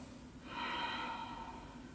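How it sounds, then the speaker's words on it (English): A slow, faint throaty breath drawn through a partially closed throat in yoga ocean breathing, a soft snore-like rasp swelling and fading once over about a second. "partially closing the epiglottis at the back of the throat and making a snoring sound"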